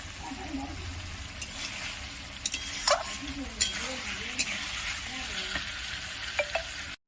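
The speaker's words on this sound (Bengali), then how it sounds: "আর একটু নেড়ে চেড়ে আমি এবার এটা নামিয়ে দেবো" Pointed gourd cooked with sesame, tel potol curry, frying in an oil-filled pan, gives a steady close sizzle with scattered clinks and scrapes as a spatula stirs it, with no talking.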